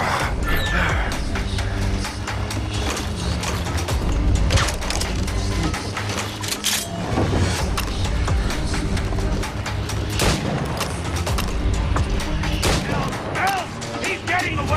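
Gunfire in Assassin's Creed Rogue, with dense, continuous volleys of shots and booms layered over loud game music and effects, steady and busy for the whole stretch.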